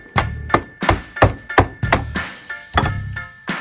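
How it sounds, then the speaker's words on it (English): Hammer blows strike a Keetouch anti-vandal robust keyboard during a crash test, about ten sharp, loud metallic thunks in a steady rhythm, close up with no talking. "Now let's try with a hammer."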